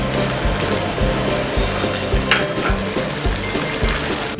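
Chunks of onion, green chillies and capsicum fry with mutton liver in a hot pan, a steady close sizzle with soft stirring scrapes throughout.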